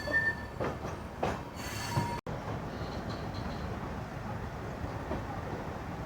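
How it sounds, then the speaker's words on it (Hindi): Express train 14624 to Varanasi pulls into platform 2 at Amritsar railway station, with a continuous rumble of wagons, a brief wheel squeal and rhythmic rail clatter heard close by. "और एक सुहावने मौसम में देखिए अपनी गाड़ी क्या खूबसूरती से एंट्री लेती हुई।"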